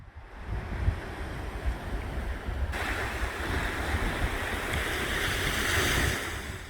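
Waves wash in at Padori beach on the Korean coast, a continuous soft surf with wind buffeting the microphone, fairly faint and steady with no voices.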